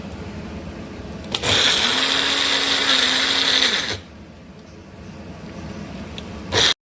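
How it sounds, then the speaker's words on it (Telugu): A kitchen mixer grinder whirs loudly for about two and a half seconds while blending ridge gourd peel chutney, then cuts off, with a short second burst at the end. "మిక్సీ"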